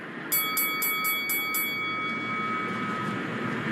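A ballpark inning bell rings in six quick, bright strikes at a Mets vs Red Sox baseball game, followed by a sustained hum of crowd and ambient noise in the large open stadium.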